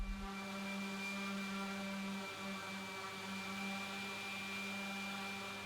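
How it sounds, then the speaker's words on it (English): A wood surface and the edges of drilled holes are being sanded, giving a quiet, steady motor drone with a faint hum that barely changes throughout. "Then I could sand the surface and the sharp edges of the holes on both sides."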